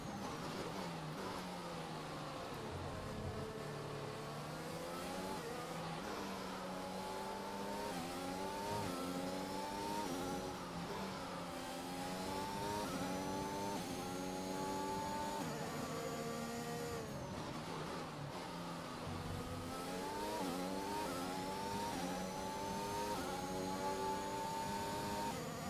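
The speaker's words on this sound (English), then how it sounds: "That's my gearbox." F1 2021 video game car with a struggling gearbox in 8th gear, a continuous whining engine drone with rising and falling pitch sweeps as it shifts and revs, steady and loud.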